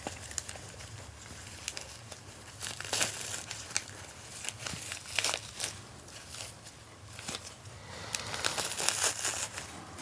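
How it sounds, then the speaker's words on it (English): Soft, close crinkling and crackling of the backing being peeled off a sanitary pad. It comes in quiet, irregular bursts with no talking. "So I'm going to peel it off"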